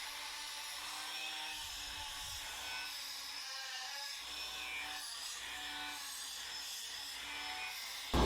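A steel mushroom knife blade is ground freehand, giving a continuous close rasping, grinding drone that holds at an even level throughout, with a brief louder knock at the very end.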